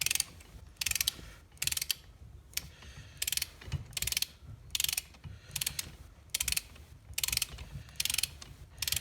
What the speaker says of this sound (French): Et on serre en croix à la clé dynamométrique